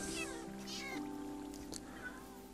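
A Minecraft cat meows repeatedly in complaint, a plaintive in-game mewing that carries over faint background sounds and light speech across the whole stretch.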